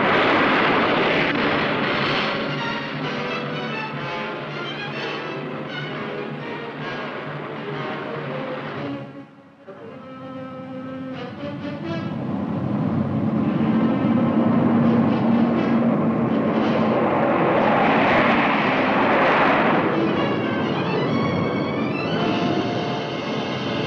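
A B-52 Stratofortress bomber roars in a loud, continuous engine drone that dips briefly in the middle and then swells back up to a broad rushing roar.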